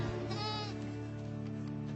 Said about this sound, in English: It's impossible just by looking to tell these goats from their non-spidey brethren.